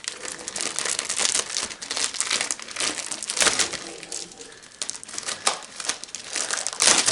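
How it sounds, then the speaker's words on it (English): Packing paper and styrofoam peanuts crinkle and rustle continuously while an elephant hide paper order is unboxed, close and busy with no talking. "get all these styrofoam peanuts out of the way here"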